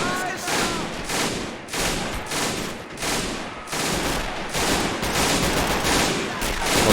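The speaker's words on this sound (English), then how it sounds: "Oh good, I hear 30 cals." In the Men of War World War II strategy game, .30 caliber machine guns fire dense, rapid bursts that overlap with other gunfire, loud and nearly continuous.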